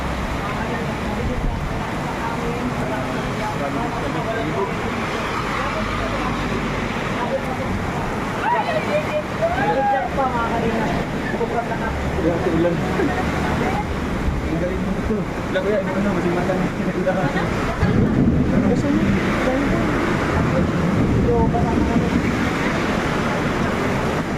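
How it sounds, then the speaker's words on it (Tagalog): Constant roar of heavy rain and gusting wind buffeting the microphone, with a voice talking intermittently underneath. "So lakas ng ulan, lakas po ng hangin."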